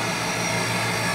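A vacuum cleaner running after repair: a steady, droning motor hum with a broad whooshing airflow, running continuously at even loudness.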